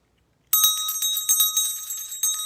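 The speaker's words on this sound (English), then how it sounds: "Yeah, I ring a bell." A small metal bell is struck once after a moment of silence, then rings on in repeated bright, close, clear chimes with a sustained shimmering tone, heard alone.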